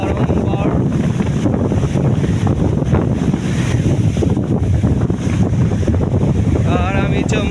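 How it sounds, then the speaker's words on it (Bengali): Big sea waves roar and crash in a strong wind, a loud, continuous wash of surf with heavy wind buffeting the microphone throughout. "যেখানে ধেয়ে আসছে অনেক বড় বড় ঢেউ"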